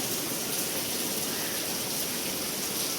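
Steady rain pours down in a dense, even hiss that holds unbroken and fairly loud throughout, with no voices.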